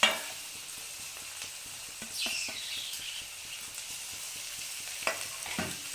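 Capsicum and cabbage pieces stir-fry in a hot pan with a low, steady sizzle and repeated tapping spatula strokes in an even rhythm, and a voice briefly speaks over it.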